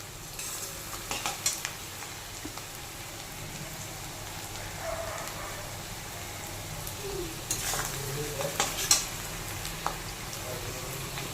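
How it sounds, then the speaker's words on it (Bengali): Onion fries in a pan with ginger, garlic and green chili pastes, a faint, steady sizzle broken by occasional scraping stirs and small crackles, with no voices. "পেঁয়াজটা ভাজা হয়ে গেছে, তারপরে দেখো আমি সব মশলাগুলো দিয়ে দিয়েছি এখানে"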